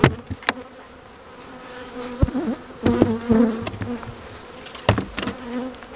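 A steady buzzing hum of many bees in a hive fills the air close by, with several sharp clicks and knocks scattered throughout as the hive is opened.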